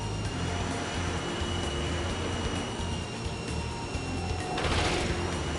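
A steady droning plane engine roar in the video game Spyro Reignited Trilogy fills the scene without a break, with a brief swell of noise near the end.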